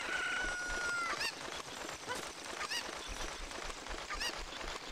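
Chicken clucking and squawking in Zelda: Ocarina of Time, several short fowl calls repeating over a steady game soundtrack, moderately loud with no talk.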